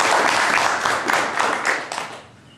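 Audience clapping at an evening training event, a loud, close burst of many hands with a few swelling accents, tapering off over the final second.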